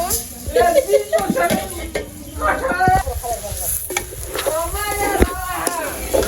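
Oil sizzling in a pan while khichuri cooks, with a steady frying hiss and scraping stir noises, heard under someone talking throughout.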